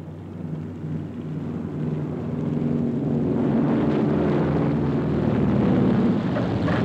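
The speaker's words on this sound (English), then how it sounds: "The last of the carrier-borne aircraft return." A broad, rising engine roar from a carrier-borne aircraft coming back to land on an aircraft carrier at sea, swelling steadily louder and holding near the end.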